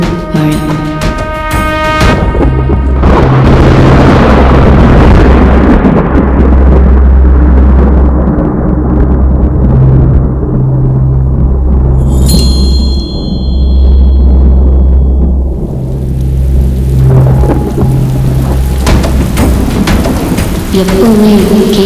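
Heavy rain pours steadily with low rumbling thunder rolling underneath, loud and continuous, with a sharper crack early on.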